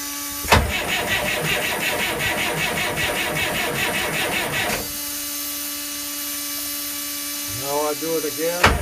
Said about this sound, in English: So I'm going to start my starting procedure for the engine.